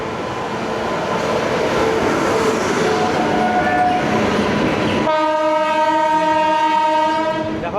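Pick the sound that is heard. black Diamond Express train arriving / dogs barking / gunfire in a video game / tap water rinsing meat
black Diamond Express train arriving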